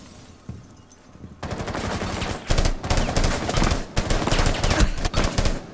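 Rapid automatic gunfire from Rainbow Six Siege Terrorist Hunt, loud and close, with dense bursts starting a moment in and running almost without pause over faint background game ambience.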